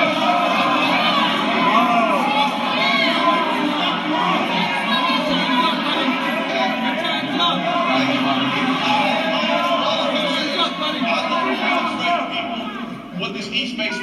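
Crowd at a rally for the Oakland Raiders, a dense wall of voices with shouting and cheering that holds steady and loud throughout, children's shouts mixed in, with talk over it.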